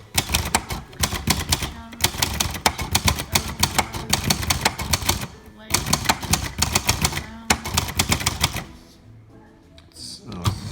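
A 1969 Silver-Seiko (Royal Century) typewriter is typed on at a steady rhythmic pace, dense close clacking keystrokes in long runs broken by brief pauses, with a soft carriage sound near the end.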